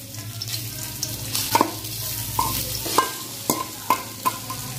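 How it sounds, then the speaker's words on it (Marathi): Grated fresh coconut roasting in a spoonful of ghee over low heat, a steady close sizzle punctuated by repeated scraping clinks of a spatula against the pan every half second or so; no one speaks. "खवलेलं ओलं नारळ आपण आता भाजून घेणार आहोत."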